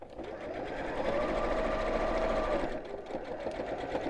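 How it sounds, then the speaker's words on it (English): Sewing machine reverse stitching over the ends of a fold on an appliqué Christmas tree cushion cover, running as a steady close whirring burst for several seconds, easing slightly near the end. "might be an idea to just reverse stitch over each end of the fold and strengthen that"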